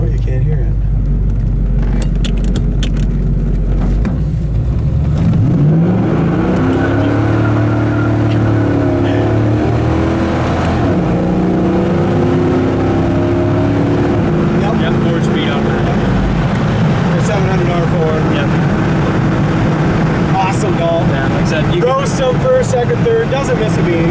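A 1970 El Camino SS restomod engine revving and pulling through the gears, a loud, deep, continuous rumble that swells and climbs in pitch, then holds steady, with people talking over it.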